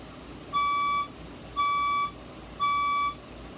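A fire alarm speaker sounds during a strobe test, giving three identical steady electronic tones of about half a second each, evenly spaced about a second apart over a low background hum.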